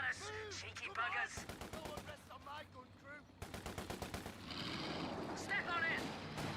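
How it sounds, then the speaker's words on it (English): Infantry gunfire in the game Company of Heroes 2: rapid rattling machine-gun bursts and separate shots crackle in repeated volleys, mixed with in-game voices talking. "infantry firing at us"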